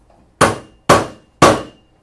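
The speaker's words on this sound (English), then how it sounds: "I choke up on the hammer and I hammer like that" Three sharp, loud hammer blows strike a nail at an even pace, each a crisp metallic impact that rings briefly and then fades before the next.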